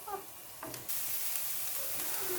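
Onions and shallot fry in olive oil in a pan, a loud steady sizzle that swells partway through as more goes in, with a few brief stirring clinks over it.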